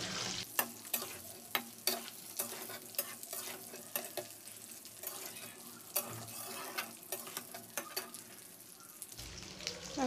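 Raw mango pieces frying slowly in oil while being stirred; a soft, fairly quiet sizzle sits under frequent sharp clicks and scrapes of a spatula against the pan, with a brief louder clatter near the end.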